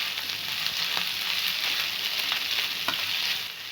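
Chopped onion frying in a pan, cooked lightly for a couple of minutes: a dense, steady, close sizzle with occasional soft clicks from stirring.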